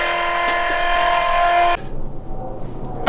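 A steady, tonal whine from the fuel pump of a Chevy truck with a Cummins diesel conversion runs loud and close, then cuts off abruptly partway through, leaving faint low rumble and rustle.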